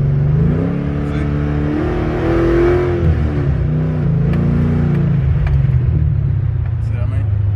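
A car engine with a failing transmission revs up and down close by, a steady rumbling drone with rising and falling pitch, and someone speaks over it.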